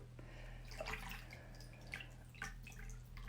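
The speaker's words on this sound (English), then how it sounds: "I've got some warm water here, and I'm going to put a drop of rosemary, 1 drop of rosemary" Water drips into a bowl of warm water prepared for a facial as rosemary oil is added: a few quiet, separate plinks and small splashes over a low steady hum.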